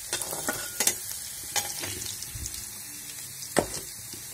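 Fenugreek leaves are stirred into a pan with garlic, green chili and potato, giving a soft sizzle under repeated scraping stirs from a spoon, close and moderately quiet.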